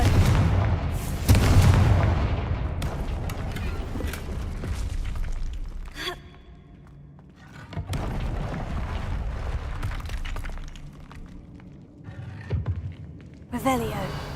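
Loud booming fire blasts from a Confringo spell in the Hogwarts Legacy video game, several heavy bursts with rumbling tails, heard close alongside a voice casting spells.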